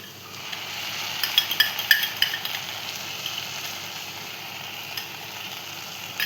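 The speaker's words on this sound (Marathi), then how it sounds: "आता आपण ह्याच्यात सॉस टाकून घेऊया." Sauce is poured into a hot pan of pasta, giving a soft steady sizzle with a few brief clinks and taps in the middle, fairly quiet and without talk.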